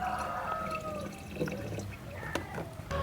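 Liquid fertilizer trickles and drips as it is poured into a gallon of water, a soft, faint splashing with scattered drips over a quiet background.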